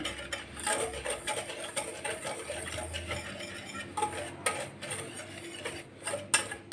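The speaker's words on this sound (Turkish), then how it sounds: "Şöyle çırpıcı ile ilk olarak güzelce bir karıştırıyorum kuru malzemelerimi." A whisk stirs dry ingredients, including semolina, in a pot for a milk dessert, a rapid scraping and clinking that repeats irregularly, close by and fairly quiet, with no talk.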